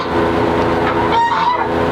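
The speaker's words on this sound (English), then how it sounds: "We've got probably close to 50 plus chickens in here" A flock of fifty to seventy backyard chickens in a coop on a small home egg farm, loud close clucking and squawking calls that overlap continuously.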